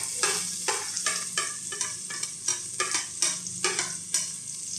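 Onions for chicken sotanghon sauté in a pan with a steady sizzle. A utensil scrapes and stirs in a regular rhythm, close up, and there is no talk.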